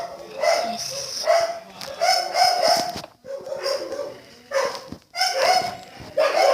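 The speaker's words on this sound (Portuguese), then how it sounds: "Não ligue pelos latidos de cachorro" A dog barks in repeated bursts of loud, close yips and bow-wows, some drawn out almost into whines, with short pauses between them.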